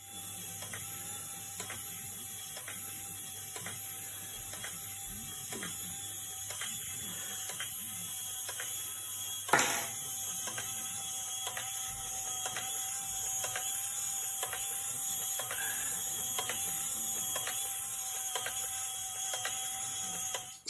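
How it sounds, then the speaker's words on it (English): A small motor in a LEGO Titanic model turns the propellers, giving faint, evenly spaced mechanical clicks about once a second with one sharper knock midway, over a low steady hum. "here's another little video showing the motor that runs the propellers"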